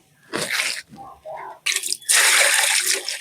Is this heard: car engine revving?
no